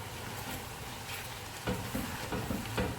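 Bolognese sauce seasoned with black pepper is mixed in a pan, with a low sizzling hiss under a few wet, scraping stirs and light knocks of the spoon near the end.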